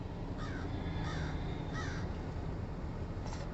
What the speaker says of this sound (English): They're staring down a barrel of two crows.